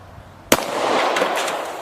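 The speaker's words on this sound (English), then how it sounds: "I'll shoot at the bottom again." A single loud shotgun blast fired at a target from about three yards, a sharp close report followed by a long, wide, rumbling decay.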